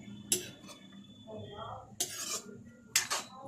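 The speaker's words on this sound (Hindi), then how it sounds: "अब इनको मैं मिक्स करके ढक दूंगी थोड़ी देर के लिए।" Metal spoon clanking against a cooking pot while mixing boiled food, then a lid set on top, three sharp clinks with soft scraping between, fairly close.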